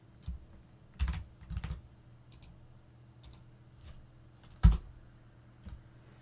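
A command typed on a computer keyboard: sparse, close key clicks with a few sharper heavy taps, irregular in rhythm, in a quiet room with no talk.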